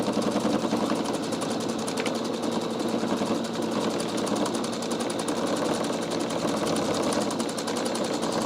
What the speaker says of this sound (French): Alors les bruits de la machine changent, bien sûr, parce qu'on a des épaisseurs complètement différentes